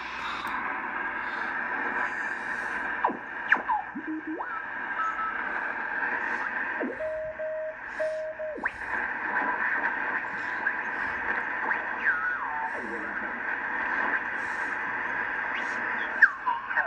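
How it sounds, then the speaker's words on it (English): A National NC-300 vacuum-tube receiver tuned to lower sideband gives off garbled, hollow amateur radio voice audio over a steady hiss, with whistling heterodyne tones sliding in pitch as the tuning is tightened. "Back to sideband. Lower sideband."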